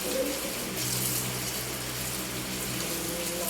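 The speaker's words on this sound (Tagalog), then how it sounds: "so kumukulo na yung tubig" Water boils in a pot on the stove while chicken wings are being cooked, giving a steady, close bubbling rush with a low hum beneath it.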